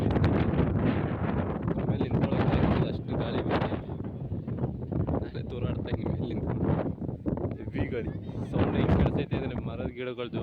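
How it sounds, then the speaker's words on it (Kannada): Heavy wind sweeps across the hilltop of Himavad Gopalaswamy Betta, a loud, unbroken roar buffeting the microphone throughout with gusty swells. "ಹೆವಿ ಗಾಳಿ"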